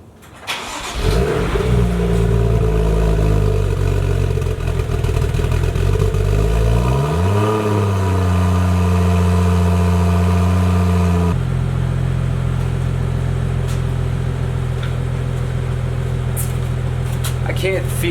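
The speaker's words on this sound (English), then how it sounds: "I'm gonna start it up, see if we have any exhaust leaks" A BMW M2 engine with an XForce Varex adjustable exhaust cranks and fires up, flares to a loud rev, then settles into a steady deep idle that continues close and prominent.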